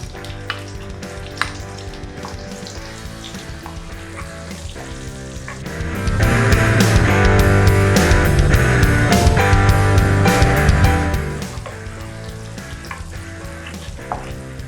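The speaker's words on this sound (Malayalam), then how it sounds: "ഇതേ പാനിലേക്ക് തന്നെ നമുക്ക് അല്പം ബട്ടർ ആഡ് ചെയ്ത് കൊടുക്കാം." Butter melting in the same frying pan used for chicken, heard as a close, steady sizzle and crackle that swells loudly midway, then eases back to a quieter fry, with no talking.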